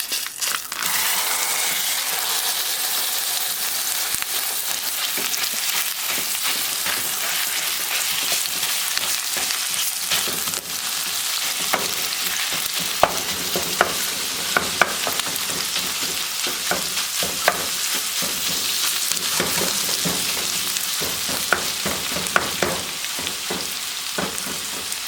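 Taco shell dough frying in hot olive oil in a pan crackles and sizzles loudly and continuously, with sharp popping spatters scattered throughout and no talking.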